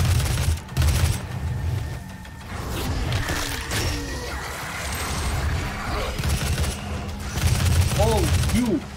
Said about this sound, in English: I'm hearing bit of detonation right now.